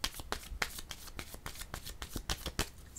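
Tarot cards are shuffled by hand close up, giving a quick run of crisp riffling snaps and soft slaps that repeat at an uneven rhythm, with no voice.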